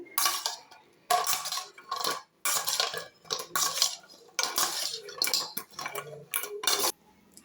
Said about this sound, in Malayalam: നമുക്കത് നല്ലോണം മിക്സ് ചെയ്യാം